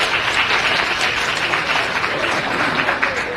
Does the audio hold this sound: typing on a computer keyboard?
no